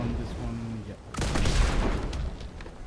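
A mortar strike hitting a ship during a Royal Navy naval battle in DarksideRP, a single heavy boom and rumbling blast that swells and then fades, following a quieter stretch of talk.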